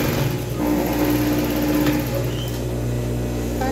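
A domestic sewing machine stitches fabric for a children's trapeze dress with ruffles, a steady close mechanical whir running continuously, with a brief change in pitch partway through as the stitching shifts.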